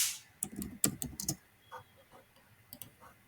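Typing on a computer keyboard, a quick close cluster of crisp key clicks followed by a few sparser, fainter taps.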